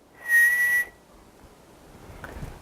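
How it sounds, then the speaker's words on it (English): A single short, steady whistled tone, held for about half a second by a lecturer in an acoustics class, followed by quiet room noise. "I whistle 1"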